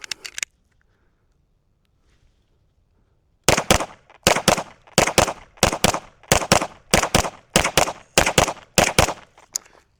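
Handgun shots at an outdoor range fired in quick doubles, a few sharp cracks at the start, a short silence, then a steady run of loud paired reports with brief pauses between, close by and with no voices.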